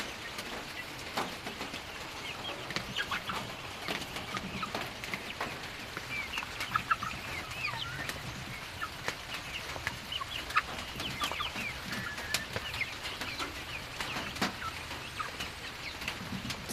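Native poultry chickens at feeding time cluck and call on and off across a farmyard, a busy moderate-level chorus with scattered sharp sounds and no voices.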